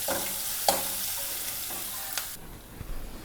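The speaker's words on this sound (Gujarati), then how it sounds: "હવે ડુંગળી જે છે એ ચડી જાય બે મિનિટ સુધી પછી આપણે આગળ વસ્તુ નાખશું" Chopped onion sautéing in a pan while cooking Gujarati-style urad dal, a steady soft sizzle with brief stirring scrapes and clinks, fading toward the end.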